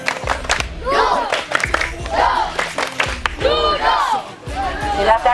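Schoolchildren at SD 3 Sesetan perform the tepuk duduk clapping chant, a crowd of young voices shouting rhythmic call-and-response phrases with bursts of clapping, loud and close, repeating in several waves.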